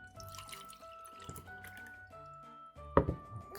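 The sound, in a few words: water poured into a 3D-printed mug for a watertight test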